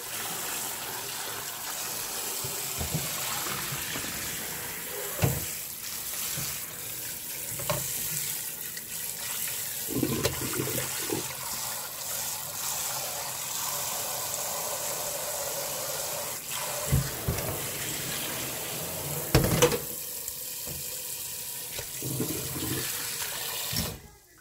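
Ingredients for beef seaweed miyeok-guk soup washed under a running kitchen tap, a continuous rushing stream of water with splashes and clunks of handling in a sink, no voices.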